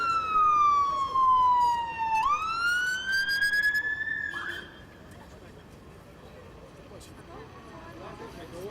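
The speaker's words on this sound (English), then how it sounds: "that's the arrival ambulance" An ambulance siren wails as it arrives at a road accident scene, its pitch sweeping down and then back up before cutting off, with engine and traffic noise continuing afterward.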